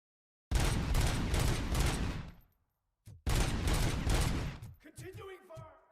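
Sustained bursts of automatic gunfire from the RoboCop: Rogue City video game, two loud continuous volleys separated by a short pause, followed by scattered impacts and clatter.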